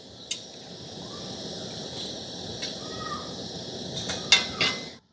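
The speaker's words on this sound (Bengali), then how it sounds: "এবার আমি আলু চিপসগুলো তুলে নিচ্ছি।" A metal utensil scrapes and clinks against the pan as fried potato chips are lifted out of hot oil, with a steady sizzle underneath and a few sharp knocks near the end.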